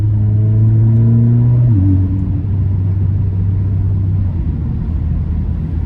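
An Alfa Romeo Giulia with all-wheel drive cruising on the road, its engine a smooth, loud steady drone that drops in pitch after a brief shift, then holds a low even hum with road rumble underneath.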